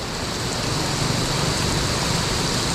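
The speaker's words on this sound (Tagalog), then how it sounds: "Umulan pa nga mga katong." Steady rain pours on a farm near a hut, a dense, even hiss with no pauses, loud and close.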